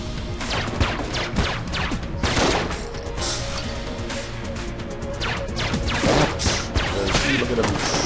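Enemy gunfire in the video game Enter the Gungeon: dense, continuous volleys of rapid shots and crashing impacts that hold steady at full loudness throughout, with a voice talking over the barrage.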